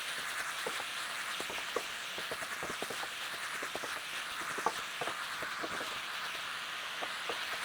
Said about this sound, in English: Make sure to keep stirring so that all the meat, gets browned and gets some contact with the bottom of the pan.